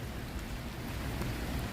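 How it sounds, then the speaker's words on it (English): Rain falling on a city street at night, a steady, fairly faint hiss and patter throughout with no talk. "You see the rain coming down."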